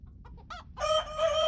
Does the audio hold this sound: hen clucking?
yes